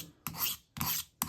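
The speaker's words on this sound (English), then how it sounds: "this is why I love these diamonds type stones for sharpening." A carving tool blade is drawn across a diamond sharpening stone in three close, rasping strokes, each a scraping burst with short quiet gaps between.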